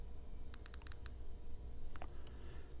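Quick sets of small clicks from the switch of a Wuben X1 Pro EDC flashlight power bank, a tight cluster of light taps followed by a couple more after a pause, faint and close over a low hum.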